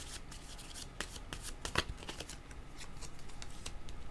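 Tarot cards riffled and shuffled by hand in a string of quick, crisp card flutters with a sharper snap near the middle, fairly close and quiet, with no voices over it.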